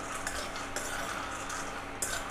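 Peanuts being dry-roasted in a pan over a low flame are stirred with a utensil, giving a steady close scraping and rattling with a few sharper clinks, and no voices.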